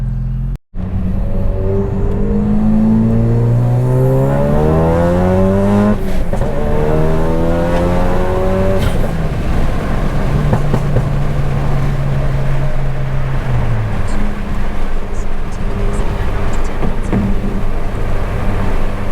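Mitsubishi Evo 9 fitted with an FP red turbo and cams accelerating hard on the street, engine pitch climbing through several gears with shift breaks, loud and close from inside the car, no talking.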